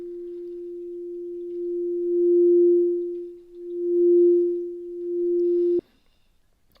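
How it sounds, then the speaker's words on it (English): A single sustained synth tone holds steady while its volume swells and dips twice, then cuts off abruptly with a click. "let's try also to play some keys on the keyboard to see the effect"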